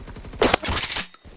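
Game gunfire from a suppressed M870 shotgun, a short burst of sharp, muffled blasts close up, followed by a brief quieter tail.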